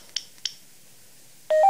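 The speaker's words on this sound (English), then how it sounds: "you have no clue how weird the ringtones of a just normal phone can be" A normal mobile phone ringtone plays in short bursts: two brief tonal beeps near the start, a pause, then a louder sustained electronic tone cutting in at the end.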